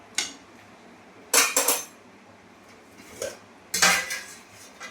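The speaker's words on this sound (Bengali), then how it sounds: "ভালো করে একটু নেড়ে দিই" A spoon clanks and scrapes against a metal cooking pot while vegetables are stirred for a fish curry, in a few separate bursts of clinks with quiet gaps between them.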